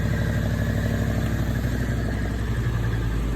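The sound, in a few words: 1973 Ford Bronco 351 engine idling, misfiring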